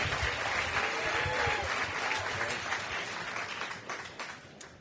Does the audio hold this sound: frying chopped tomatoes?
no